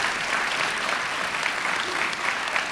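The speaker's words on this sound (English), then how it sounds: "Let's give them another round of applause for all you're doing" An audience at a county event honoring 2016 Team USA Olympians applauds a foundation board member, with steady, dense clapping that runs close and loud from start to finish.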